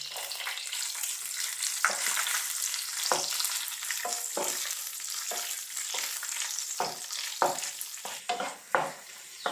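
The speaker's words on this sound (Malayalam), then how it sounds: "ഫ്രൈ ചെയ്തെടുക്കാം. കിസ്മിസ് കൂടി ചേർത്ത് കൊടുക്കാം." Raisins frying in hot oil give a steady bright sizzle, broken by repeated scrape-and-stir strokes from a spoon in the pan, close and fairly loud, with no voices.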